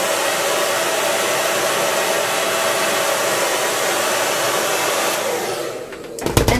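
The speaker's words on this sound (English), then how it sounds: "a hair dryer. And I just apply heat." A hair dryer blows heat onto a wig in a steady, loud, close whoosh that cuts off just before the end.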